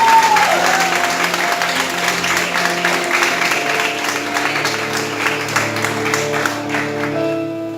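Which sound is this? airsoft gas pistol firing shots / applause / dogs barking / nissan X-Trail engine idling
applause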